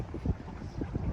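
Wind gusts over a lake in Metz, heard from aboard a small electric boat, a rough close rumble buffeting the microphone, with no voices.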